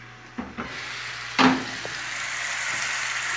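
Garlic cloves sizzle in a frying pan while a quick fish stew is being cooked, giving a steady crackling hiss with a few sharp bursts and stirring noises, with no talking.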